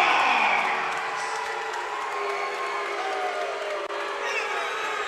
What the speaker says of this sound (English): All these people booing, they need to shut up.